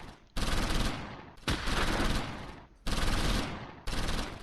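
Bursts of automatic gunfire from Close Combat V, a WWII tactics video game, come in four loud sustained volleys separated by brief pauses, each rattling at full strength and then tailing off slightly.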